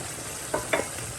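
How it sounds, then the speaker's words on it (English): Saltfish crisping in a pan for a Jamaican okra and saltfish dish, a steady soft frying hiss with two brief stirring scrapes near the middle, close and quiet with no talk. "So I fry the saltfish first because I love to get a little bit of crisp on the saltfish"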